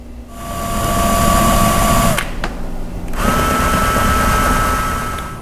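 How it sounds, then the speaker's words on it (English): A power drill bores holes through a door for through bolts, with two loud sustained whining runs split by a brief pause and no speech. "and then we'll drill those out."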